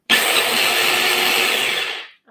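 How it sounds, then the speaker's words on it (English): A small kitchen blender blitzing nuts, a harsh continuous whirring grind at close range that stops abruptly near the end, with no talking over it. "This little blender is pretty good for blitzing things like this."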